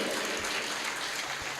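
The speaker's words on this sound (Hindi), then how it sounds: "अपने लिए ताली बजाओ" An audience at a spiritual talk claps together in a steady, dense burst of applause, fairly soft and even throughout the short stretch.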